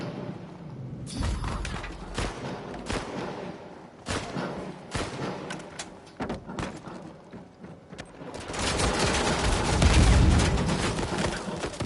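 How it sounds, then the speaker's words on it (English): Gunfire in an Uncharted video game: scattered bursts of shots and rapid volleys, some close and sharp, others trailing, building to a heavier, sustained barrage near the end. "I'm shooting at him"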